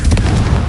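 A single loud, punchy Confringo fire spell blast from Hogwarts Legacy, a sharp burst with a short booming tail, close and alone.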